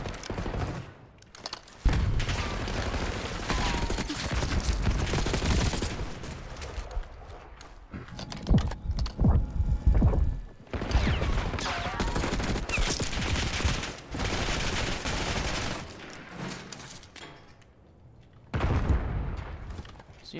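Sustained bursts of rapid gunfire from a Call of Duty match in a competitive league event, loud and dense with brief gaps, occasional booms, and a caster's voice faintly under the shooting.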